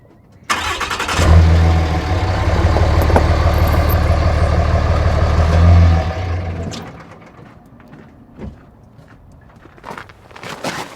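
A truck engine starts with a sharp onset and runs loudly as the vehicle creeps forward for about five seconds, then shuts off, leaving faint clicks and scattered handling noises while snow chains are fitted.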